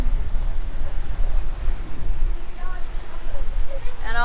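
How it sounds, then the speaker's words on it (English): Wind and waves rush steadily around a sailboat under way in 19 knots of wind, a continuous roaring wash of water and wind noise throughout, with faint whistling tones near the end. "We got 19 knots of wind."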